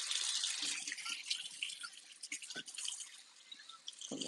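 Water rinsing a child's hair over a bowl on wash day, soft irregular trickling and dripping at low level, close by and alone.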